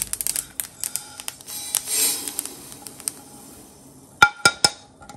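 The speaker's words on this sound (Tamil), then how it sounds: "இப்போ நம்ம அதை ஒரு தட்டில் கொட்டிக்கலாம்" Roasted sesame seeds are tipped from the pan onto a plate for kozhukattai filling, a short patter of light rattles and clinks, then a few sharp metallic taps near the end; close and fairly clear with no talk.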